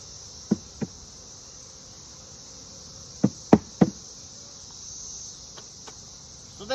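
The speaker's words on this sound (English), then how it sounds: "except for all the guard bees flying around me now" Guard honeybees fly around a beehive outdoors under a constant high insect drone, with several sharp knocks and taps scattered through it and no talking.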